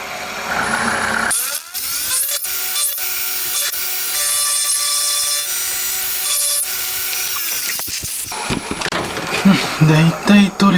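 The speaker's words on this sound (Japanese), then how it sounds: "結構ここでかいのでリューターで全部やると大変なので、エンドミルであらかた取ってしまいます。" An end mill cuts away scab-like casting flaws deep inside the cylinder of a handmade 125cc four-cylinder, 16-valve engine. A steady, loud grinding whine with ringing tones runs for about seven seconds, then stops into scattered knocks and clatter.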